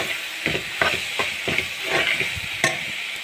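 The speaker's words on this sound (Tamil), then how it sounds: "சேர்த்து நல்லா வதக்கணும்." Tomatoes with chili powder and spices sautéing in a pan for South Indian black chickpea biryani: a steady hiss of frying with a regular series of spoon stirs and scrapes, close and alone.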